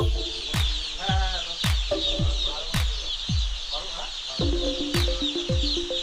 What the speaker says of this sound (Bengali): এত সুন্দর খেলা করছে মুরগি